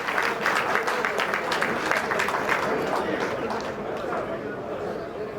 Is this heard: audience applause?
yes